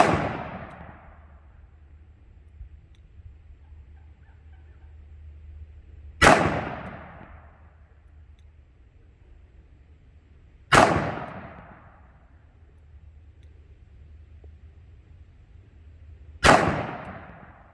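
Three sharp, loud revolver shots from a Smith & Wesson Model 69 .44 Magnum Combat Magnum with a 2.75-inch barrel ring out at a firing range, spaced several seconds apart, each with a quick decaying echo.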